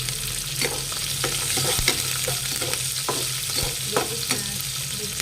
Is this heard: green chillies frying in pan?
yes